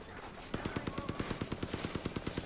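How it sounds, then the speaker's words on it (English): Rapid automatic gunfire in the video game Deadlight, a steady stream of about twenty evenly spaced shots fired in one continuous burst, close and punchy. "Firing at the target"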